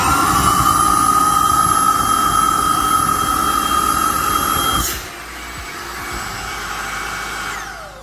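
A MooSoo K23 Pro cordless stick vacuum runs at a steady, loud whine with a high tonal hum during a suction test, then drops to a lower, quieter running tone partway through, with no voices.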